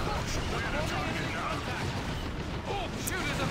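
Gunfire from Dawn of War II Retribution, an Imperial Guard battle, as a continuous loud barrage of shots and blasts that fills the whole moment with no break.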